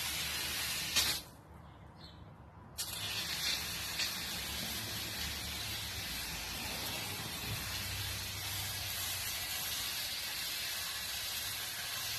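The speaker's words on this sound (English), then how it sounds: "I'm going to grab the hose." A garden hose sprays water to rinse off a bird feeder, a steady broadband hiss close by that cuts out briefly near the start and then runs on evenly and loudly.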